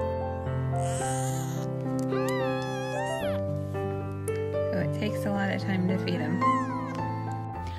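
A newborn two-faced Janus kitten gives thin, rising and falling meows under a continuous spoken narration and a steady musical backing.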